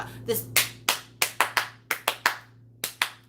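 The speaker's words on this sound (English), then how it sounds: "that's a very common clap" A single person claps in a brisk, uneven rhythm, about a dozen sharp, close claps in short bursts with brief pauses between, over a faint low hum.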